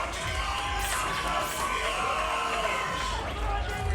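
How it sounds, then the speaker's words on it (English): A loud, roaring fight-night crowd cheers for fighter Sutcliffe at Rocktagon XXIII, a dense, steady wall of shouting and whooping voices that fills the whole stretch without a break. "As you can see them going crazy in the crowd."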